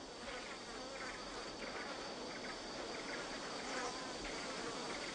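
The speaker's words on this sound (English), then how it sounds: "the job was done by tiny sweat bees" Tiny sweat bees buzz steadily around arum flowers, a faint continuous insect drone with no voices.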